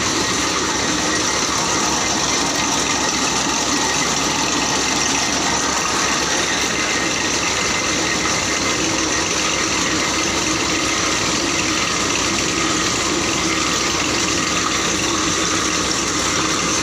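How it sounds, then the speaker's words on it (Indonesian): A grinding machine processes the clay raw material for roof tiles while it is wetted with water, giving a steady, loud droning hum mixed with watery churning that runs unbroken throughout. "Ini mesin penggilingan mesinnya nih."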